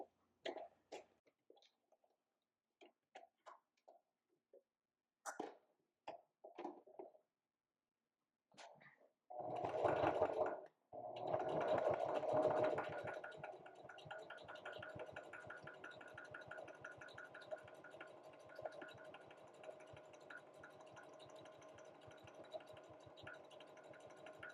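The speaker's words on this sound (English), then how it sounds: "I'm going to top stitch right along to give a nice finish to the panel" A sewing machine runs steadily while top stitching a fabric panel, its even mechanical hum sustained for about fifteen seconds after a few scattered handling clicks and bumps.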